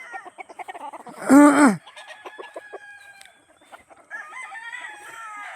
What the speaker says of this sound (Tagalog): Perting daghan ng mga manok diri.